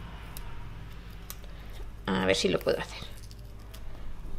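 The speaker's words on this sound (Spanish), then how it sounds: "si liberamos un trocito del adhesivo de la cinta de doble cara" Backing is peeled off double-sided tape in a short, crackly ripping burst up close, and someone speaks quietly just before it.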